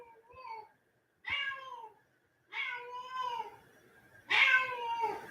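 A house cat meows four times, clear and close, in separate drawn-out calls with short pauses between them, the last one loudest and most insistent.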